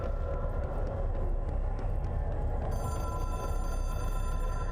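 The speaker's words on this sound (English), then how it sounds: "And yet this phone echoes like crazy." An old-style telephone in the video game Control rings with a steady, echoing metallic trill over a droning room tone, its high tone sustained in the second half.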